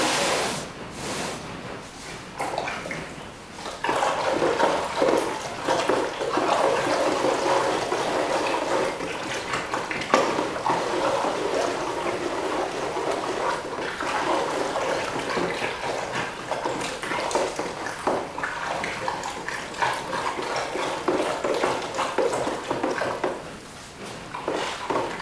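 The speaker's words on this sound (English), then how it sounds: "we're going to give the glaze a good stir" Pottery glaze is stirred in a bucket, giving a long, continuous liquid sloshing and swirling with occasional soft knocks against the container.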